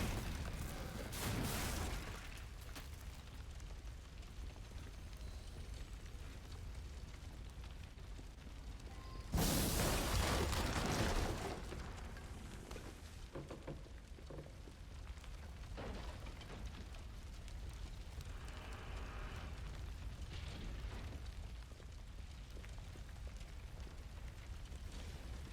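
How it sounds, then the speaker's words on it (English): Powder stores blowing up in Assassin's Creed Unity: a heavy explosion near the start, then a louder, sharper blast followed by a long rumbling roar and scattered debris crackle, with no talking. "The powder stores, they're going to blow!"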